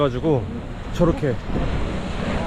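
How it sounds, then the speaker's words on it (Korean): Sea waves crash against the cliff at Devil's Tears on Nusa Lembongan, sending spray up: a broad rushing surge swells in the second half after a voice speaks over the roar. "이게 파도가 치면서 저기 절벽에 부딪혀"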